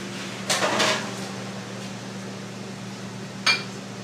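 A bowl of French onion soup slid into a restaurant oven: a brief scraping slide with a clatter near the start, then a low steady oven hum, and a short sharp clack of the oven door shutting near the end.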